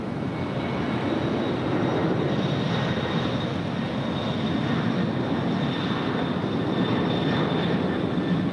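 A fixed-wing airplane passes over LAX airport, a loud, steady broadband engine roar with a faint high whine, sustained throughout without voices.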